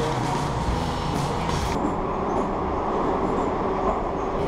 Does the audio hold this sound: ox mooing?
no